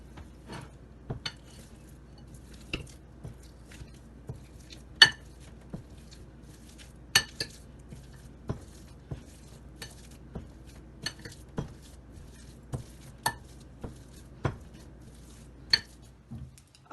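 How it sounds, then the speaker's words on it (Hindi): Boiled potatoes being mashed in a bowl for aloo kachori filling, heard as a steady series of utensil knocks and clinks against the bowl, sharp and fairly close, with quiet gaps between strokes and no talking. "आलू मैश कर लिए हमने।"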